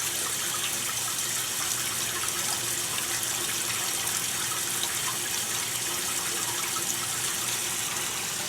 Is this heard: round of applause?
no